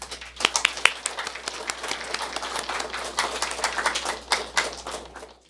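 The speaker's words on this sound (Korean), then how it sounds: "우리 나오실 때 힘찬 박수 한번 부탁드리겠습니다." An audience at a lecture gives a warm round of applause as the speaker comes up, many hands clapping in a dense, steady patter that swells and fades slightly, with no talk over it.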